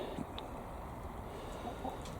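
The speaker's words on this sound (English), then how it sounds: "That's contented chickens." Soft, scattered clucking from a few contented chickens on an allotment plot, fairly faint and close, with a low steady background and no talking.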